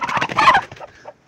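A desi village chicken in Neelum Valley, Kashmir clucks and squawks loudly up close, a burst of agitated calls followed by a few softer clucks.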